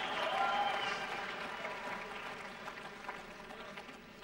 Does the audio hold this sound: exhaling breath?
no